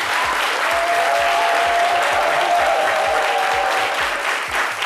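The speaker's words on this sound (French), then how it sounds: "le chorégraphe international Georges Monboy qu'on applaudit très fort." A studio audience on a French midday television show claps loudly to welcome a guest choreographer, giving dense, sustained applause at a steady level from start to finish.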